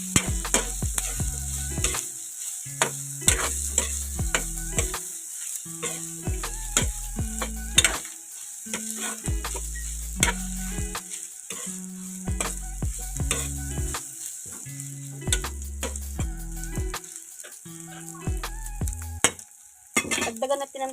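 Isaw adobo stirred in a pan, with rhythmic, repeated scraping and clanking strokes of a utensil over a constant frying sizzle, close and fairly loud, ending with a brief different clatter.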